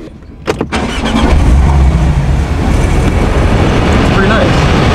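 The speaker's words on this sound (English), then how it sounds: "I'm gonna show you guys a cold start with the Porsche. It sounds pretty nuts" A Porsche 718 cold-starts with a quick starter whir and sharp catch, then the engine flares into a loud, high-revving roar that settles into a steady, rough idle.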